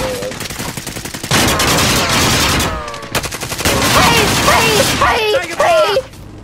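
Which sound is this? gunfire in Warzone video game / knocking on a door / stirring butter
gunfire in Warzone video game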